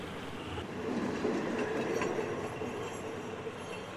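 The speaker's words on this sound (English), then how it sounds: "there really are trains bringing more tourists to the temple" Trains pass near Wat That Noi temple at Chandi, a rolling rumble of rail cars with clattering wheels and faint squeals. The sound is moderately loud and fairly near, building slightly and then holding steady, with no talking.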